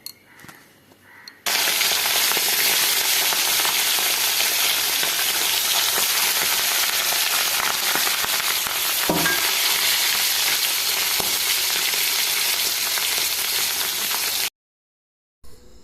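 Fish frying in a pan gives a loud, steady, close sizzle that holds evenly for about thirteen seconds, then cuts off abruptly with nothing else over it.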